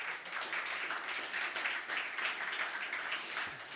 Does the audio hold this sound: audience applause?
yes